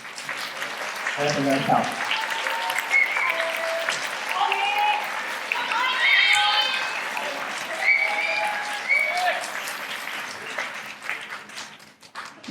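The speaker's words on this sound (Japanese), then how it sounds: "大きな拍手を。" Audience applause fills a live stage event in Osaka, with dense, sustained clapping that carries throughout, while voices talk over it.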